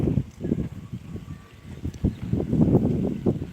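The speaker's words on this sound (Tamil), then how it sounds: "நல்லா காற்று சருன்னு அடிக்குது" Strong wind gusts roar in low, rumbling bursts against the microphone, rising and falling steadily throughout.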